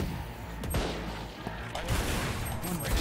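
Sniper and rifle shots in a Valorant match, a few sharp loud cracks amid steady game ambience with faint voices in the background.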